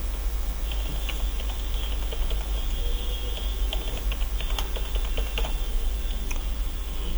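Rapid keystrokes on a computer keyboard as a password is typed, steady irregular clicking close by over a low constant hum, with no talking.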